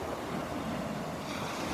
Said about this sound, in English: since the waves picked up a little bit here